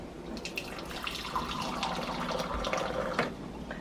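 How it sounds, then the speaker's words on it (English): Hot water pouring and splashing into Thrive Life tomato sauce powder, a steady, moderately quiet liquid trickle with small splashes, heard close and alone. "we are going to try it with hot water now"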